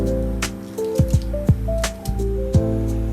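Malabar spinach (poi saag) is roughly chopped with a knife, giving several sharp, close chopping thuds spaced irregularly over a steady background hum.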